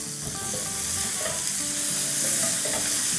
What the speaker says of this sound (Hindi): अब इसे हम डाल देते हैं अपने आलूओं में और अच्छे से मिला लेंगे।